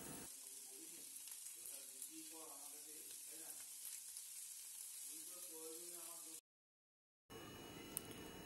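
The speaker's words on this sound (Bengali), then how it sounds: "এবার এটাকে ভালো করে নাড়াচাড়া করব" Scrambled egg crumbles sizzle and are stirred in a pan, a steady frying hiss with spatula scrapes throughout, under background music, cutting out briefly near the end.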